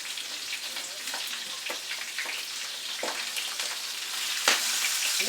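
Butter sizzles and crackles steadily in a hot pot on a warmed stovetop burner, a dense continuous frying hiss with a few sharper pops.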